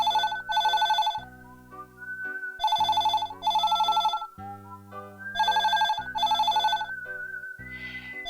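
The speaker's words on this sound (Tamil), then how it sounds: "பிரீத்தி, போய் போன் எடு." Telephone ringing in a classic Tamil TV serial, an electronic ring in repeated paired bursts separated by short pauses, loud and close over a sustained musical background.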